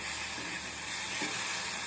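Amaranth greens (mchicha) sautéing in oil in a pan, a steady close sizzle and hiss with faint stirring, no voices.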